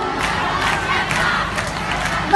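A live crowd at an outdoor cover concert in Arzano, 2018, roars and cheers continuously, a loud dense wash of voices and applause with no music or speech on top.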